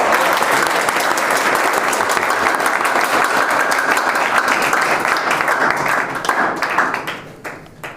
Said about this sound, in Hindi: बिल्कुल तालियां बजाओ।